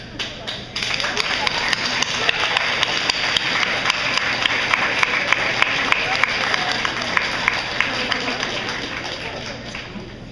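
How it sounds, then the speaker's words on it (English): Students at a high school National Honor Society induction ceremony applaud their families, a dense, steady wash of many hands clapping from about one second in. It stays loud and even for the rest of the span. "Students, please stand and applaud your family members who are here to support you tonight"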